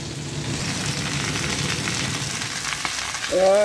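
Asparagus stalks and onions fry in a pan with a steady close sizzle throughout, ending in a sudden louder burst of crackling as more goes into the hot fat.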